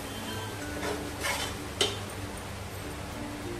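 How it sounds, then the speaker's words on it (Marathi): Masala is stirred and sautéed in hot oil in a pan for cornflakes chivda, a quiet steady sizzle with a few scraping spoon strokes and one sharp clink against the pan. "आता हा मिक्स केलेला हा मसाला त्यातला अर्धा घालूया. हे बघा आणि चांगला तेलामध्ये परतवून घ्यायचा आहे मसाला."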